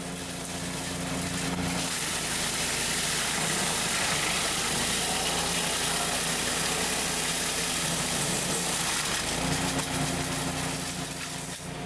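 A Woodland Mills TFG55 gas wood chipper runs steadily at a constant engine drone with no pauses, and no branches are being fed through.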